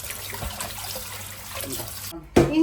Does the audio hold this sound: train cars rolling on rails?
no